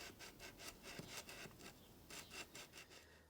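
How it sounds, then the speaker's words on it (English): Land Rover 2.25 engine tappet rubbed on 220-grit sandpaper at a bench edge, quiet rhythmic back-and-forth rasping strokes in quick succession, close and soft with no talking. "just using some sandpaper on the edge of the bench, even pressure, keep it nice and flat"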